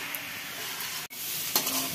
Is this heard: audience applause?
no